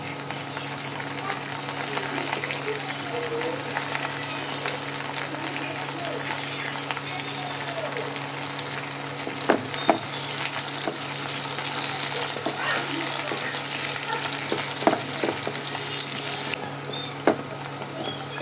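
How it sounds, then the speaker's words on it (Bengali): Onions fry lightly in a pan with garam masala for a country chicken curry, giving a steady close sizzle with occasional stirring clinks. A voice talks over the cooking. "পেঁয়াজ ভাজা শুরু করে দিয়েছি হালকা ভেজে নেবো"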